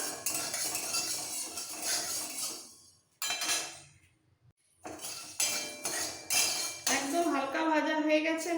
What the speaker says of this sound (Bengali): এই ছ পিস মাছের জন্য হাফ চামচ করে কিছু মশলা হালকা ড্রাই রোস্ট করবো